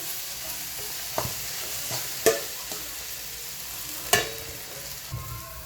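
Stale chapati pieces stirred into a frying breakfast mixture in a pan, a soft steady sizzle running throughout with a few sharp scrapes and taps of the spoon against the pan, close and without talk.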